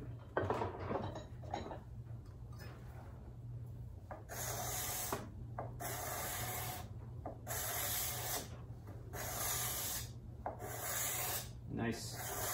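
A card scraper drags across curly maple in repeated rhythmic strokes, each a bright, close, raspy scrape separated by short pauses, with no talking over it.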